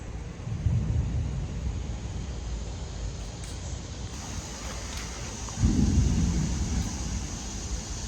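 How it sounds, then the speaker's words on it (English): Steady rain and wind hiss with two deep rolls of thunder, the second one louder and closer, rumbling for a couple of seconds. "Suddenly it's a little stormy out."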